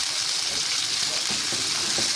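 Sautéed tomatoes being stirred into chicken pasta in a pan, a steady close sizzle with soft scraping stirs toward the end.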